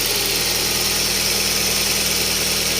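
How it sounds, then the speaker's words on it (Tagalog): An automatic car engine idles to warm its transmission fluid, a loud, close, steady mid-pitched hum with an even pulsing rumble and no speech. "Umaandar po at kailangan po siyang painitin at least 10 to 15 minutes po."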